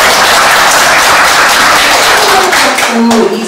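Audience applause fills a lecture or talk setting, a steady wash of many hands clapping loudly and continuously before tapering slightly at the end.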